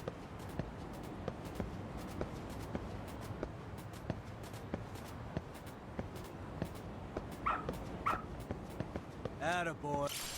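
A dog in Lost Judgment gives a few faint whimpers and yips near the end, over soft footsteps and steady background ambience, with someone talking.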